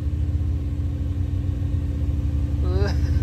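An off-road vehicle engine on a trail rumbles loud and steady at low revs while a person speaks over it.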